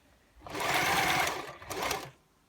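A sewing machine stitches a pleat into a gypsy skirt in a short close burst, with a steady mechanical whirr, a brief dip and a second shorter run before stopping.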